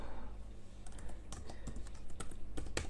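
Quick, light keystrokes on a computer keyboard while entering a name into an online application form, a soft irregular patter of taps at close range with no voices.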